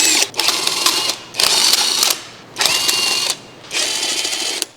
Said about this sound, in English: Use a 19mm deep socket with an impact wrench to remove the lug nuts.